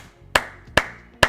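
Three single sharp hand claps, evenly spaced about half a second apart, loud and close with no voices.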